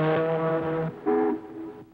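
A voice imitates an ocean liner's horn with two low, buzzing blasts, the first longer than the second, close and loud.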